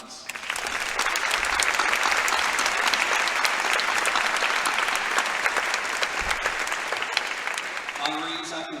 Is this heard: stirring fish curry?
no